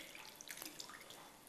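Red wine marinade pouring into a dish for lamb, a soft, steady liquid splash and trickle with a few brief drips, close and fairly quiet.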